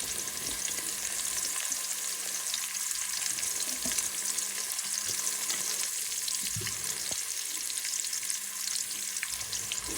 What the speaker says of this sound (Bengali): দিয়ে দিলাম পেঁয়াজটা